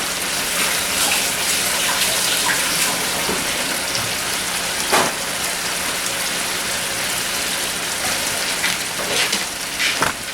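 Water runs into a kitchen sink as a cook works on low-carb smothered pork chops and turnips, a steady close rushing hiss that fills the whole stretch with a few brief splashy spikes and no talking.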